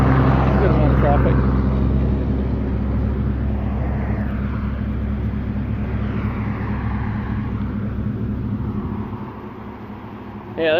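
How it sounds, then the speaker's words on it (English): Road traffic passing close by, with cars and engines rushing past in a continuous broadband roar that slowly fades and then swells again at the end, people talking over it. "Good amount of traffic."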